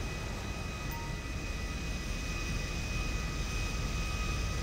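Steady, broadband roar of a jet aircraft in flight in the Grand Theft Auto video game, a continuous engine rush that holds at an even level with no breaks.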